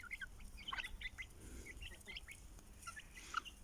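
A small flock of chickens, a young chick among them, peck at a dish of rice pilaf, giving soft, scattered clucks and chirps at a low level.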